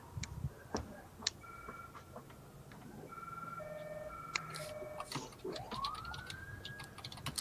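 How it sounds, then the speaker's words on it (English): Faint ambulance sirens wail in the distance, one rising sweep near the end, mixed with scattered electronic beeps and phone-like ringing tones in a quiet room. "I hear ambulances and phones ringing."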